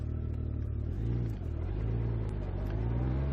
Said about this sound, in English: The six-cylinder engine spins up quickly, and despite the bike's weight can easily hit license-endangering speeds in a few seconds